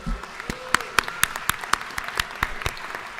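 Applause rings out in a state legislative chamber during a session day, a scattered rhythm of claps with sharp distinct hits standing out roughly every quarter second, moderately loud and with no talk over it.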